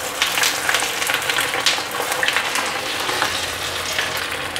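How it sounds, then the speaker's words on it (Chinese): Vegetarian mock fish frying in a generous layer of hot oil on its second side, a steady crackling sizzle with dense spatter pops throughout, close and alone without voices. "第二面也煎得差不多了"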